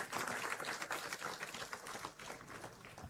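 A conference audience at the Vibrant Gujarat Regional Conference for Kutch and Saurashtra applauds, with steady, dense clapping from many hands that holds fairly even throughout before thinning slightly near the end.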